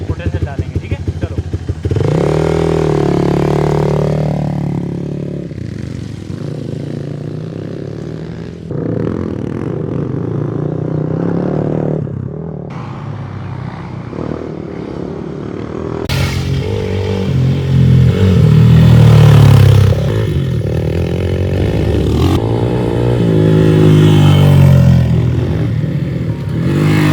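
A motorcycle lapping a track roars loudly throughout, its engine revving up and easing off repeatedly as it accelerates and passes, with occasional clattering.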